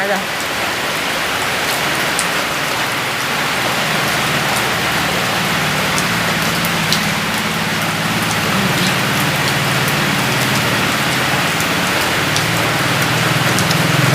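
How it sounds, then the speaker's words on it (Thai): Steady light rain patters continuously with an even hiss and a few sharper drops. No voices. "เสียงฝนเบา"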